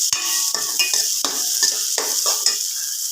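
A spoon stirs ginger-garlic paste through a fish curry in a hot pan. The paste sizzles steadily, with repeated scraping and clinks of the utensil against the pan.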